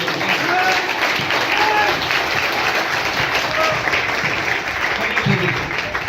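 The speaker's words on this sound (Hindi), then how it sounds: "ताली बजाने का मन कर रहा तो बजा लीजिए" An audience at a business training meeting claps loudly and continuously, a thick wash of many hands lasting several seconds, with a few scattered voices faintly mixed in beneath the applause.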